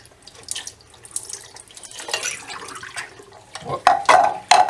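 Water runs from a tap, rinsing a very old roll of developed photographic film in a sink; a steady splashing stream, close and moderately loud, swelling into heavier gushes near the end.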